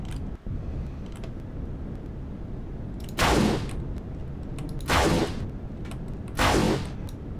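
Weapon fire from Empyrion Galactic Survival rakes the player in three loud, distinct bursts spaced a second or two apart, each a bright blast rising over a low ambient hum.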